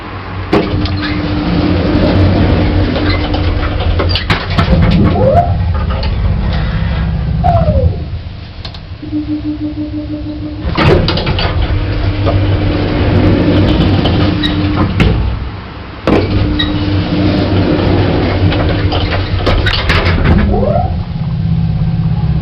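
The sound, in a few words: old Bennie lift elevator motor running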